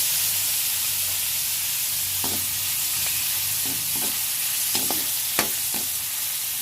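Chopped tomato sizzles in a hot pan while being sautéed for ginisang mongo with ampalaya leaves, a steady frying hiss broken by a few soft stirring scrapes and clicks.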